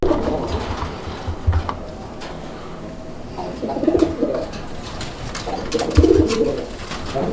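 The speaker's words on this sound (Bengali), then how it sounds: "কবুতর এক একটা কবুতর এক একটা স্টাইলে কিন্তু ডাকে" Raj-golla pigeons coo in low, throaty bursts, several calls close by at different moments, over a busy background of chatter and rustling.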